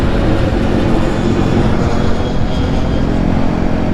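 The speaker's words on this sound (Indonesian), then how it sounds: "Wah, ada pesawat lewat cok." An airplane passes overhead, a loud, steady broadband roar that fills the whole stretch without letting up.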